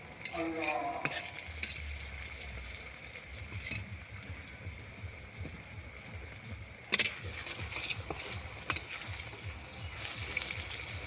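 Potato chops deep-fry in oil in a kadai, giving a soft, steady bubbling sizzle with a few sharp clinks and splashes at scattered moments.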